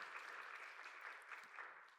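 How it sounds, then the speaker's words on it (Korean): A church congregation at a Sunday youth worship service claps to welcome new members, a continuous faint patter of many hands that sounds distant and roomy and holds evenly for about two seconds. "박수로 환영하도록 하겠습니다"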